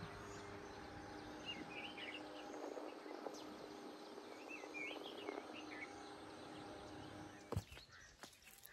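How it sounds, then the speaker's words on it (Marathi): Faint morning birdsong with scattered chirps and tweets rises over a steady insect drone at a lakeside campsite near Pawna, quiet and distant, with a brief knock near the end. "शांतपणे ऐकलं तर तुम्हाला पक्ष्यांचे आवाज ऐकायला येतील बघा"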